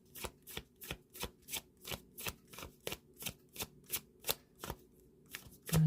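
Oracle card deck being shuffled in a steady rhythm of about a dozen crisp riffling bursts, close and clear with no talking, ending in a louder handling thump.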